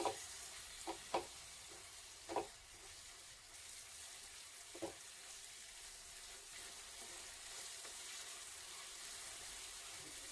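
Spices such as cumin, coriander and turmeric are stirred into an Assamese cabbage dish frying in oil in a pan. A steady close sizzle runs throughout, with several scraping stirs early on and no voices.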